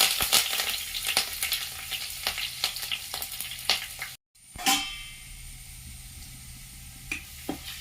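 Garlic, ginger and curry leaves fry in hot oil in a pan for a fish curry, a loud close sizzle broken by scraping stirs, a brief silent gap, then a softer crackle.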